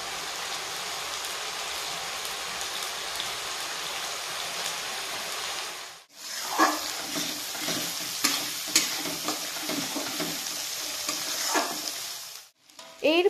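Onion, ginger, dried and green chillies with tomato paste sautéing for Bengali egg curry: a steady frying hiss, then after a brief pause a busier sizzle with frequent stirring scrapes close by.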